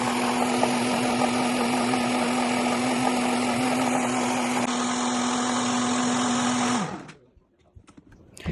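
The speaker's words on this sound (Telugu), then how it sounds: "కొద్దిగా మిల్క్ యాడ్ చేసేసుకొని స్మూత్‌గా నేను మిక్సీ పట్టేసుకుంటున్నానండి" A kitchen mixer blends apple, dates, jaggery and milk in a loud, steady whirring drone with a constant motor hum, running for several seconds before winding down sharply into quiet handling noises.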